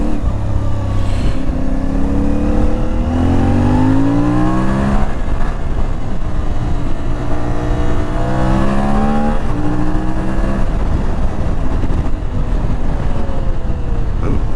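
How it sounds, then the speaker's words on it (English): An IBEX 450 motorcycle is ridden on a breezy day. Its engine climbs and falls through the revs in repeated shifts, heard close over a constant rush of wind noise. "there's so much wind noise"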